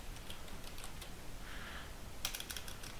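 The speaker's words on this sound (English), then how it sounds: "all we'd have to do is type in a new name, an email" Typing a name and email on a computer keyboard, a quick run of soft close key clicks in irregular bursts over a faint steady background hiss.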